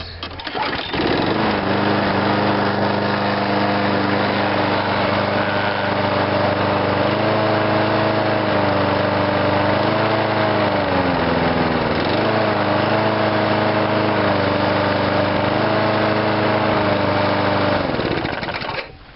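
A small Craftsman lawn mower with a Briggs 5.0 engine idles steadily and loudly up close, its pitch dipping and wavering slightly before it cuts off at the end.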